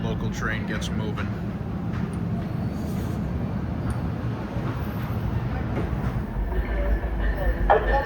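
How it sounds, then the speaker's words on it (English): A local train pulls away from the New Brunswick station, a low steady rumble of wheels and rolling cars that builds slightly, with people talking on the platform over it. "And now the local train gets moving."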